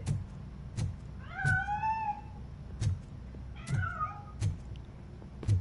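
A cat in the video game RoboCop Rogue City gives two drawn-out meows a couple of seconds apart over a steady rhythmic thumping background.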